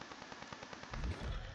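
A warship's rear guns fire in a naval battle video game, giving a quick rattling string of shots followed by a heavier, deeper boom near the end; the sound is close and punchy.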